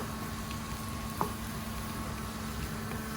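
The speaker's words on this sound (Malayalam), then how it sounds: "ഉണക്കമുളക് കൂടെ ഇട്ടിട്ട് നല്ല ബ്രൗൺ കളറിൽ ഇത് മൂത്ത് വരാനായിട്ട് തുടങ്ങിയിട്ടുണ്ട്" Onions, dried red chillies and mustard seeds fry in oil for a Kerala-style mango curry, making a soft, steady sizzle with a single brief pop midway and no voices.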